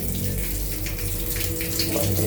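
Water gushes strongly and steadily from a household tap over a bathroom sink or shower, a loud continuous rushing stream with no pauses.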